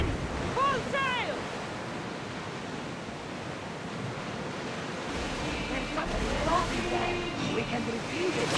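A ship under full sail crosses ocean waves in Assassin's Creed Odyssey, with steady surf and wind rushing throughout while voices and crew calls come through over the sea noise.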